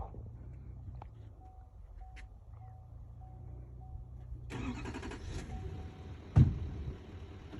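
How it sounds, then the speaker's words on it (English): A truck reverses to couple onto a trailer kingpin, its engine idling low beneath a steady series of short reversing beeps, then a louder rumble builds and a sharp metallic clunk lands near the end. "You can see the truck backing up and hooking onto the kingpin there."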